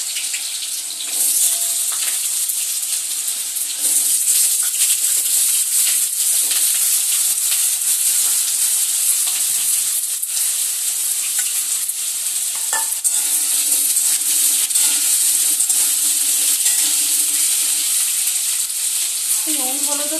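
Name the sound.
frying cut potatoes in hot oil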